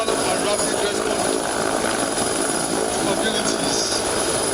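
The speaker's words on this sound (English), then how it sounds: "Witnessing a combat helicopter performing a repelling operation deploying Special Intervention Squad SIS operating into" A Nigerian Police Airwing combat helicopter hovers close by during a fast-roping demonstration, its rotor and engine making a loud, continuous, steady roar throughout.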